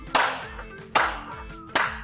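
Pre-K children clap together three times in a steady, evenly spaced rhythm, each sharp burst close and distinct with brief ringing between.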